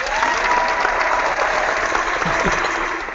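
Steady, loud clapping from a crowd at an online seminar opening, continuous and even throughout before tapering slightly at the end.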